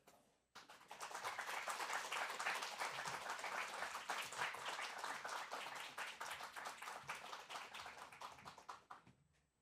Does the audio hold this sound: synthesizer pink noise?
no